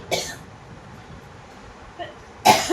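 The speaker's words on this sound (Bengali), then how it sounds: "এই কাশি হচ্ছে কেন, জল খাবে?" A woman gives a couple of short coughs indoors during a home facial, one brief cough at the start and a louder, harsher pair near the end, separated by quiet room tone.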